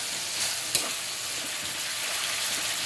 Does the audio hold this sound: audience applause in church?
no